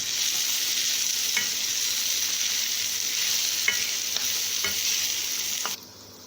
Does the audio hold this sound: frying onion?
yes